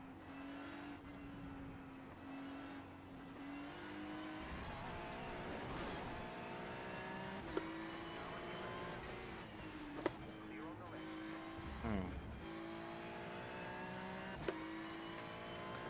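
USF 2000 open-wheel race car in a racing video game, its engine droning steadily with rising and falling revs and gear changes throughout, the game sound loud and continuous while a voice talks over it.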